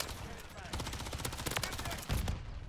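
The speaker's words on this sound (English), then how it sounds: "The Rival 9 has a fast fire rate." Rapid automatic gunfire from the Rival 9 SMG in Call of Duty: Modern Warfare III, a dense fast-paced stream of shots lasting through the moment, loud and close with game sounds around it.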